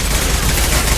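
Enemy gunfire in Mass Effect 2, a loud continuous barrage of rapid shots that fills the whole second without a break.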